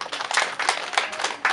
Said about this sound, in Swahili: Naomba mwapigeni makofi.